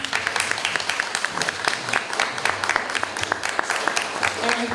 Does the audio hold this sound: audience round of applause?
yes